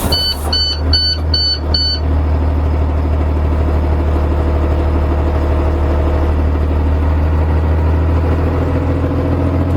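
A bus engine starts after a few short dashboard beeps, then settles into a steady low diesel idle with a deep rumbling hum that continues evenly and close by.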